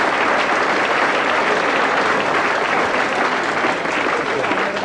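Steady, dense applause from a comedy club audience, loud and sustained throughout without a break.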